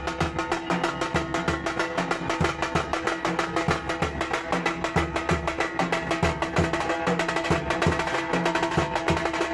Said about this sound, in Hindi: ढोल नगाड़ों की आवाज़ आप सुन सकते हैं टीवी स्क्रीन पर।